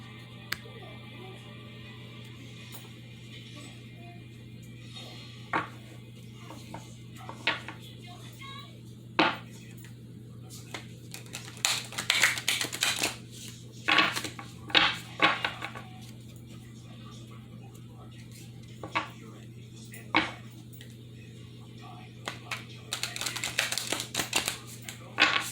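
Oracle cards from the Awakened Soul deck are shuffled and pulled, giving scattered soft clicks, flicks and brief riffling bursts in a quiet room with a steady low hum.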